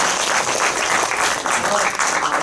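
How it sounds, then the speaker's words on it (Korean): A cinema audience at a film screening talk event applauds in a dense, steady wash of clapping that fills the whole stretch at an even level. "박수 한번 다시 쳐주시고요."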